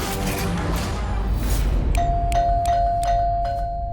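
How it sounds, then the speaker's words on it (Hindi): Doorbell ringing rapidly in a home during a family drama, with a series of sharp electronic ding tones repeating in quick succession over a busy background of music and room noise. "अरे भाई, किसके पीछे भूत पड़ा है जो इतनी तेज तेज घंटी बजा रहा है?"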